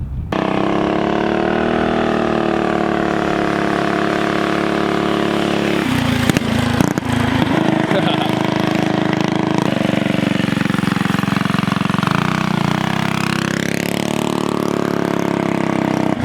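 A mini ATV built like a cross between a mini bike and a go-kart runs its small engine continuously and loudly up close, with a steady buzzing drone that shifts pitch as the throttle changes, rising toward the end.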